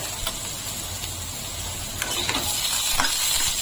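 Diced tomatoes with salt being stirred in a pan, soft scraping and faint sizzling with a few light clicks of the spoon, close and quiet, no talk.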